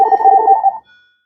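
A phone ringtone preview plays a short warbling two-tone electronic trill for under a second, loud and close, then cuts off into a brief faint tone.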